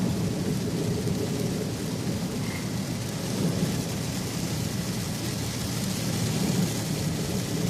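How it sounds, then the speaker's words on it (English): Heavy rain pours down in a dense, steady roar, with a low rumble of thunder running underneath throughout. "But it's been raining so much today"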